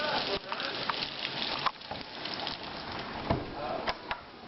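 Steady rain patters close by, with scattered louder drips and taps over a continuous wash of noise.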